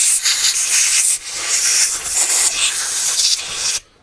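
A compressed-air nozzle blasts carburetor parts from a 1998 Honda Fireblade CBR900RR clean in a loud, continuous hiss that rises and falls, then cuts off abruptly near the end.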